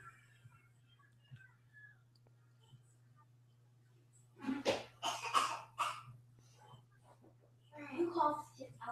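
A person coughs in a quiet room over a low steady hum, a short cluster of harsh coughs in the middle followed by another burst near the end, with a few faint clicks in between.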